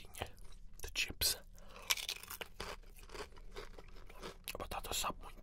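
Salted potato chips crunched and chewed up close, bursts of crisp crackling bites at an uneven rhythm with some crinkling, loud and isolated with no speech.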